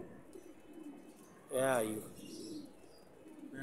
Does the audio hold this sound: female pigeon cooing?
yes